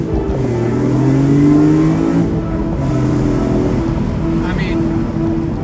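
A BMW M3 CSL engine revs loud and close, rising and falling in pitch with a sustained drone, without anyone talking over it.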